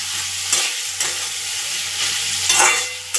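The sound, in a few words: potatoes being stir-fried in spice masala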